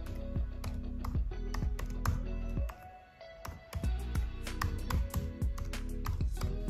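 Keys clatter on a Mac computer keyboard as an Apple ID is typed, quick irregular taps close by and faint, with a brief pause midway before the typing resumes.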